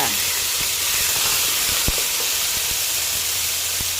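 Pork hits a hot pan with garlic for a Thai chili paste stir-fry, sending up a loud, continuous close sizzle and hiss with a few faint clinks and taps of the utensil mixed in.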